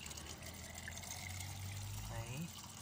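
Water pours out through an orifice in a fluid mechanics lab tank while the level is held steady, giving a continuous faint trickling hiss with voices talking nearby.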